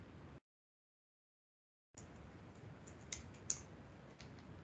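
Light clicking keystrokes on a computer keyboard as a gcc command is entered, quiet and irregular with a few sharper taps and a short silent pause near the start.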